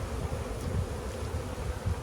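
Honeybees buzzing around a hive outdoors, a dense steady hum of many insects close by with no voices.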